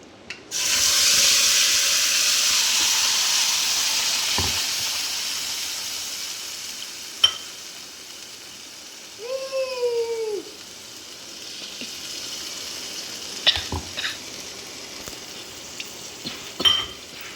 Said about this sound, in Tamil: இப்போ இந்த சட்னி வந்து கொதிச்சிட்ருக்கு